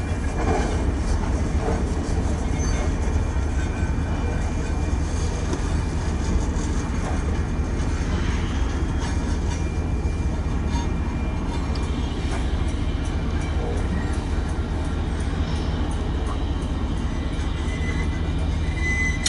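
A heavy freight train with a KCS locomotive as a distributed power unit rumbles past close by near a diamond crossing, a steady low roar with metallic clatter and faint wheel squeal throughout.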